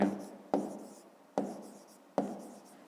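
A pen or chalk writes out a math solution in a few firm strokes, with four distinct taps and scratches spaced about a second apart against a quiet background.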